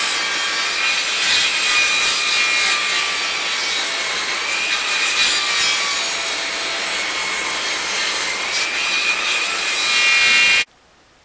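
Hand-sawing wooden boards for a catamaran deck rebuild: a steady, continuous rasping saw stroke close up for about ten seconds, then the cut ends abruptly into near silence.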